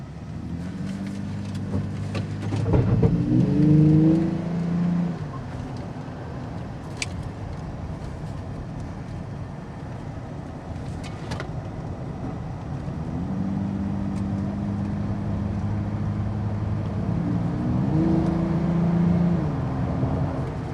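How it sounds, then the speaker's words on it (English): Steady low road and engine rumble fills the enclosed cabin of a Toyota Tacoma pickup with a cold air intake while driving with windows up, with a muffled tonal hum rising and falling and occasional faint clicks. "Windows up, cabin noise"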